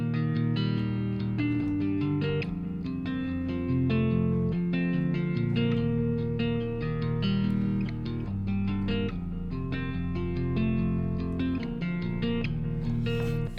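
Native Instruments Electric Sunburst virtual guitar on the Bonfire A preset plays a steady, loud bass melody rhythm, sustained chugging notes continuing throughout with no voices.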